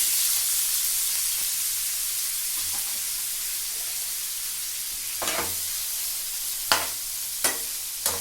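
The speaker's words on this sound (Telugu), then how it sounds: "ఆయిల్ బాగా హీట్ అయ్యాక ఈసారి ఉల్లిపాయలు వేసుకున్నాను" Onions frying in hot oil in a pan, a constant hiss and sizzle. Toward the end come a few sharp stirring clacks, all close, with no voices.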